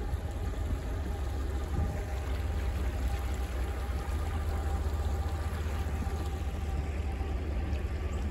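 A snowy creek flows and gurgles steadily nearby, a continuous rushing wash of water with a low rumble underneath and no talking.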